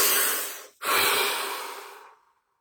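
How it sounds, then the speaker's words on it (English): Two deep breaths close to the mic, a long airy inhale and a breathy exhale separated by a brief pause, loud and unaccompanied. "Deep breath."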